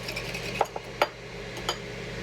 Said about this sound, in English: Now we're just going to whisk this together.